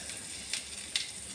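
Asafoetida powder sizzles in hot sesame oil in a pan while a mango pickle tempering is prepared, giving a steady, faint hiss with two brief sharper crackles, close and alone without talk.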